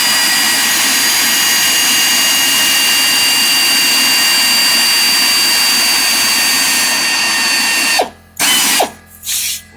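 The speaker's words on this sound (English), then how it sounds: "Loosen up both of those bolts. Brake caliper bolt." A power tool whines loudly and continuously for about eight seconds while loosening the brake caliper bolts during a coil spring swap. Two short, sharp bursts follow, then it goes quiet, with no talking.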